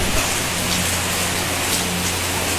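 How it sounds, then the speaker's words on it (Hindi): Steady rain pattering on a surface, a dense constant hiss with a low hum underneath, no talking. "सडनली ऐसा बारिश, मौसम इतना खराब हो गया, उसका बारिश आ गया"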